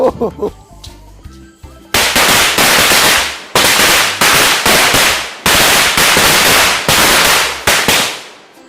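A long string of firecrackers goes off in rapid, loud crackling bursts, separated by brief pauses, after a few scattered bangs, during Vishu celebrations.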